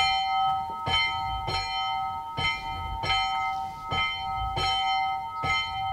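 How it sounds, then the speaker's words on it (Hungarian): A newly consecrated church bell in Kisgyőr, Hungary tolls loudly and steadily, about one strike every three-quarters of a second, each ring lingering with a bright, sustained hum. "Advent minden vasárnapján megkondítjuk ezt a harangot"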